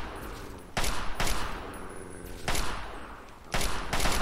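Gunfire in modded Fallout 3, heard as loud, close bursts of rapid shots in three or four separate volleys with brief quieter gaps between them.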